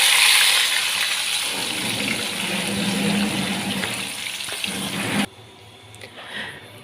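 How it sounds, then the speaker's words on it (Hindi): Marinated chicken goes into a pan of frying garlic, raising a loud, steady sizzling hiss that cuts off abruptly after about five seconds, leaving faint quiet noise. "अब इसमें ऐड करेंगे मैरिनेशन किया हुआ चिकन।"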